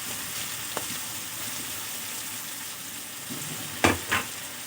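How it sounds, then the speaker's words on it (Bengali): Vegetables and rice stir-fried together for fried rice, a steady close sizzle with a few sharp clatters of the spatula against the pan near the end. "একসাথেই ভেজে নেব।"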